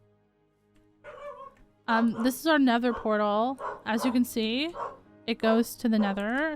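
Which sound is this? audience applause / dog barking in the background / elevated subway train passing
dog barking in the background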